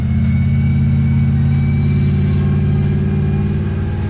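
A 1971 supercharged Oldsmobile 442 cruises along, its engine holding a loud, steady, deep drone for several seconds while driving at even speed.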